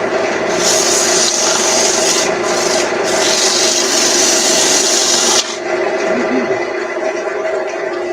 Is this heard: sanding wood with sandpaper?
yes